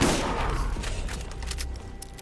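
Gunfire in Borderlands Remastered aimed at a skag in an arid badlands area: a loud opening blast fading into a rumbling tail with a few fainter sharp shots.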